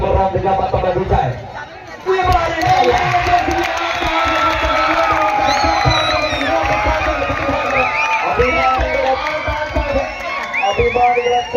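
Fans in a crowd at a kabaddi semi-final, Sonna versus Mumbai at Sonna Kabaddi Vaibhav 2025, cheer and whoop loudly, with a dense babble of voices and a commentator talking over the noise.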